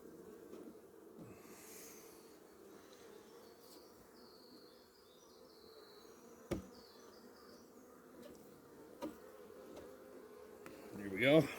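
Bees buzz around an opened beehive on a farm, a faint, steady insect hum with occasional louder passes close by and a few sharp clicks.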